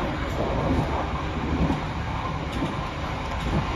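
The Kahuripan train passes straight through Minggiran station without stopping, a loud, steady rumble of railcars and wheels on track holding throughout.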